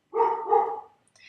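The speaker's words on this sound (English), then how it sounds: "Sorry about my dog." A dog indoors gives two quick, close barks in a row, loud and clear, followed by a faint squeak.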